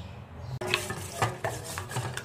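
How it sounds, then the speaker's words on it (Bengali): Thick batter of salt and dried red chilli powder being mixed with water for stuffed pointed gourd, a spoon or whisk scraping a bowl in repeated short strokes, close and fairly quiet with no talk. "এবার এটাকে মোটা করে একটা ব্যাটার তৈরি করে নেবো জল দিয়ে"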